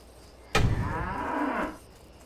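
A single cow moos in a World of Warcraft-style fantasy video game, one loud, drawn-out low bellow lasting about a second, clear and close with nothing else over it.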